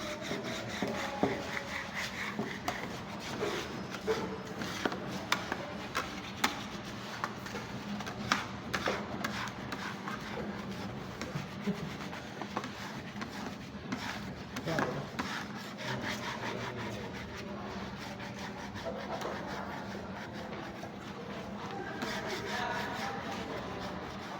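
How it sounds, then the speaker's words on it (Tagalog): Old wax being scraped and rubbed off a surface before new wax goes on, a steady dense scratching with frequent small scrapes and clicks throughout, close and continuous. "Kailangan matanggal talaga lahat ng ano, lahat ng lumang wax bago lalagyan ng panibago"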